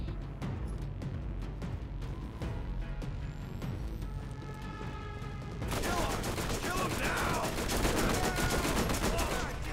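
Rapid bursts of gunfire in the Borderlands video game, a steady rattle that grows denser and louder partway through, with no talk over it.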